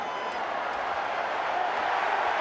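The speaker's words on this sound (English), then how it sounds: "And the crowd urging Takiaho forward." A rugby league stadium crowd at a Super League semi-final between Catalans and St Helens, a dense roar of distant massed voices and cheering held steady, with a commentator's voice faintly underneath.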